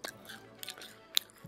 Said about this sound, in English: This cookie is really good.